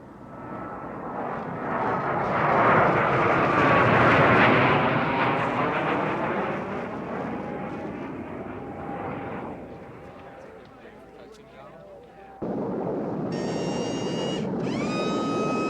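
An aircraft makes a high-speed pass along a runway, a loud roaring rush that swells to a peak and fades as it passes, followed by a steady engine drone with electronic tones near the end.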